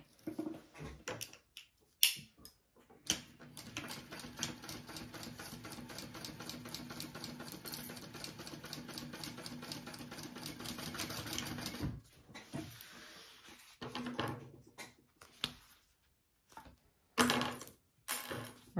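A sewing machine runs in a long continuous burst, stitching two bag gusset pieces together, its fast motor whir and needle clatter close and steady, framed by short starts and stops with handling clicks.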